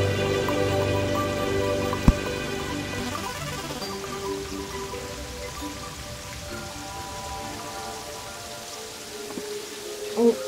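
Steady rainfall in the video game Terraria, a continuous patter of drops running the full length beneath layered game music, with one sharp tick near the start and no talking.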